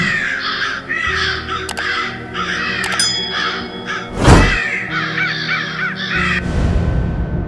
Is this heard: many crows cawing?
yes